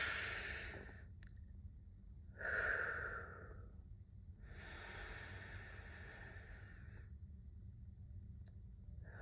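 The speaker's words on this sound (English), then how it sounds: "let's first take a breath with me" Slow, deep breathing during a guided morning meditation, with long airy inhales and exhales rising and falling close to the microphone over a low steady rumble, no speech.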